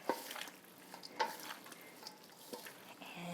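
Cheese tortellini pasta salad being mixed in a bowl, soft wet stirring and scattered light clicks at low level, no voices.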